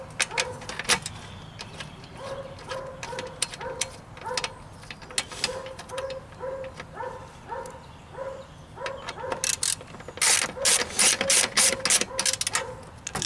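A ratchet clicks rhythmically in repeated strokes while tightening bolts of a Ford Ranger bucket seat installed in a Jeep Wrangler YJ, close and crisp, with a faster burst of clicks toward the end and a dog barking faintly.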